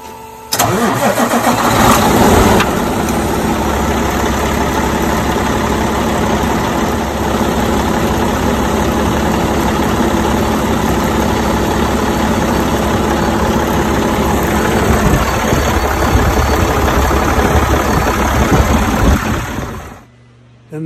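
A Cummins X15 diesel in a 2019 Peterbilt 389 cranks and fires after a fuel filter change, then idles loudly and steadily for most of the stretch before cutting off near the end.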